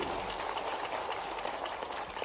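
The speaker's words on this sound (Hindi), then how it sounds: "जोरदार ताली बजाओ माननीय मोदी जी के लिए" An audience at a live government event in India claps in dense, sustained applause for the Prime Minister, a steady broadband patter of many hands filling the hall.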